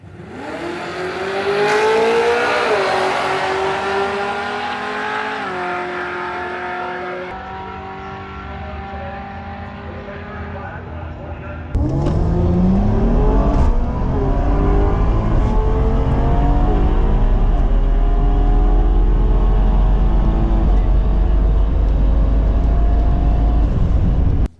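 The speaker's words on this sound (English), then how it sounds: "Ernest, we're on the starting line, the Cadillac right-hand side. The 4-eyed Ford Mustang, left-hand side of the racetrack" A Cadillac and a four-eyed Ford Mustang drag race cars on the starting line, engines revving and droning, then a sudden loud launch with rising pitch as they accelerate away, sustained heavy roar after.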